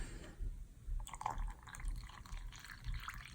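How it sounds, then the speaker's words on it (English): Water is poured into a bowl of colored cornstarch mixture, a soft, faint trickle and splash with a few drips, heard close over a low background hum with no talking. "So the only thing left is to add the water."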